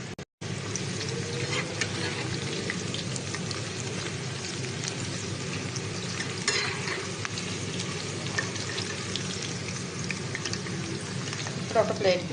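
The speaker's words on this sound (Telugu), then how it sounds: "మళ్ళీ రెండోసారి కూడా చికెన్ ఒక్కొక్కటిగా వేసుకొని వేయించుకోవాలి." Chicken pieces for chicken Manchurian deep-frying in hot oil, a steady dense crackling sizzle that runs close and unbroken for the whole stretch, with no talk.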